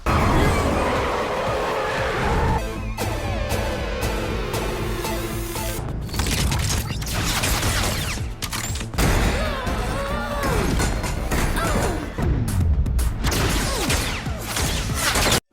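A hacked car in an animated action movie swerves and nearly crashes, with loud continuous tire screeching, revving engine and chaotic impacts layered over dramatic music throughout.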